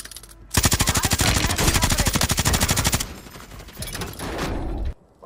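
Rapid, loud automatic gunfire from a battle royale video game rattles continuously for a few seconds, then gives way to scattered shots and softer game noise before cutting to near silence.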